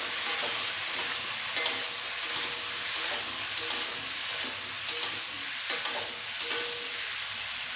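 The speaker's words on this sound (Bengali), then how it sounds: "এবার একটু কষিয়ে নিচ্ছি এটা।" Taro curry with a little chili powder sautés in a pan, giving a steady sizzle broken by regular scraping and clinking strokes as it is stirred. The sound is close and continuous, with no talking.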